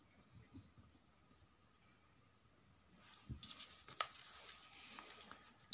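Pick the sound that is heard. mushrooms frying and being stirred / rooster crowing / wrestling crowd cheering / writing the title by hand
writing the title by hand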